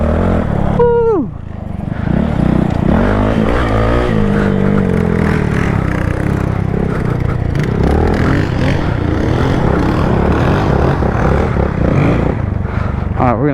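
A new Honda Grom motorcycle rides over rough dirt, its engine droning and revving loudly and steadily up close, with rattling and gravelly scraping from the ground. A voice talks over it.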